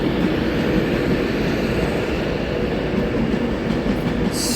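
A Class 390 Pendolino electric train passes at Carlisle station on the West Coast Main Line, a loud, steady rushing roar of wheels and rail noise with faint clickety-clack, close by and continuous throughout.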